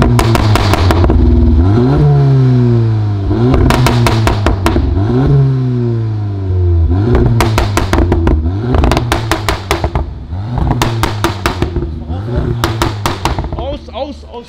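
A 312 hp Golf GTI engine revs hard in repeated bursts, rising and falling sharply several times, loud and close outdoors in Frankfurt, heard from outside the car, with brief voices between revs.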